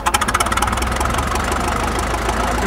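A vintage tractor engine runs up under added throttle, with rapid loud knocking firing pulses at the start that blend into a steady, heavy mechanical roar.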